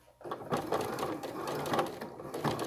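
Sewing machine running a short reverse stitch to lock the end of a seam on a Christmas sewing project, a steady close mechanical whir with rhythmic needle clatter, alone.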